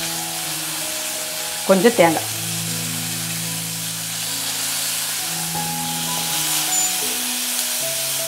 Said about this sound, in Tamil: சுண்டைக்காய் வந்து நல்லா கலர் மாறுற அளவுக்கு நல்லா வதக்கி எடுத்துக்கலாம்